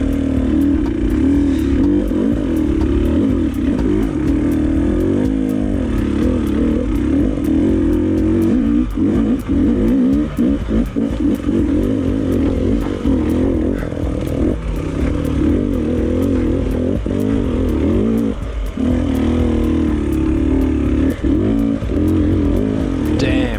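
Enduro motorcycles climb a long hill during a Romaniacs cross-training ride. The engines drone loudly and continuously at close range, rising and falling with throttle changes, with clattering mixed in.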